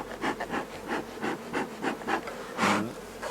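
Honey bees at a hive entrance make a close buzzing hum with repeated pulsing swells and rubbing scrapes, one louder burst near the end.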